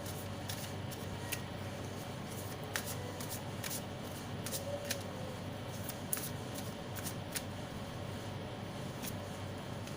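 Tarot cards are shuffled and drawn in quick crisp riffles and light slaps, a string of sharp papery flicks over a quiet room hum, close and soft.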